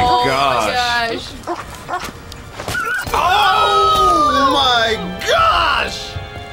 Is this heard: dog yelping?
yes